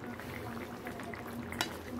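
Food simmering in a pot on the stove, giving a steady soft bubbling and gentle sizzle with one brief brighter clink near the end, faint and continuous.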